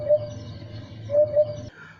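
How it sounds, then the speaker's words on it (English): Repeated short bird calls of a cuckoo ring out clearly over a steady low hum, with a few distinct notes spaced through the clip. "sound of cuckoo bird."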